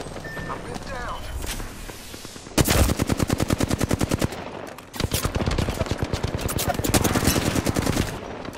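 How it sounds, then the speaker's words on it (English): Rapid automatic gunfire in a shooter video game comes in two long sustained bursts of evenly spaced shots, loud and close, with a brief lull between them and some talk early on. "Opening fire on the enemy."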